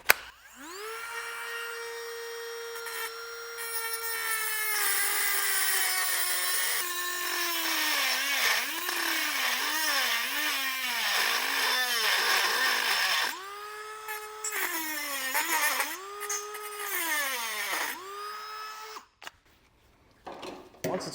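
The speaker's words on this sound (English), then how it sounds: "I'm just going to use a Dremel tool, the little cutoff wheel on here to get this material removed" A Dremel rotary tool with a small cutoff wheel cuts away frame material on a 2024 Jeep Wrangler Unlimited. Its close, loud, high whine dips and recovers as the wheel bites, runs for nearly twenty seconds, then cuts off near the end.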